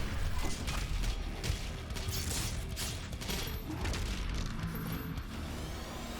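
Video game combat against the Buff Totem Marauder, with rapid gunfire and grenade blasts in a dense, continuous clatter of shots, booms and crashes, heard fairly faint throughout.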